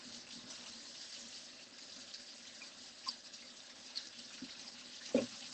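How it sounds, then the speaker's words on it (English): Tap water runs steadily into a kitchen sink while icing is rinsed out of a utensil, a soft continuous flow with a few small clunks and a louder knock near the end, no talking. "so I'm going to put this in the sink and we're going to rinse this out"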